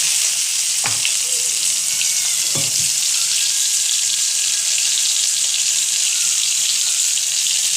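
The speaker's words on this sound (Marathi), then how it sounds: "आता बघा हे शेंगदाणे आणि मिरच्या वाटून घेतलेल्या आहे आता मी हे टाकून देते बघा" Ground peanuts and chillies hit hot oil for a fasting-day recipe, giving a loud, steady, close sizzle that runs throughout, with a couple of sharp clinks from a utensil early on.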